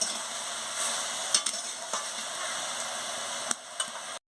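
Vegetables with chilli and turmeric powder stirred in a pan, a soft continuous sizzle with a few scraping spoon strokes and light clicks, close and moderately quiet.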